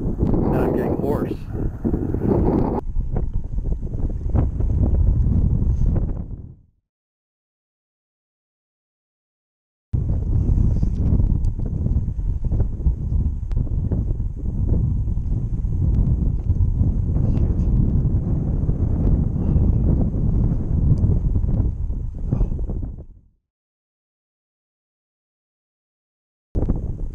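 Cold wind buffets the microphone in heavy, continuous roaring gusts, broken by a silent gap of several seconds before resuming and then cutting off again.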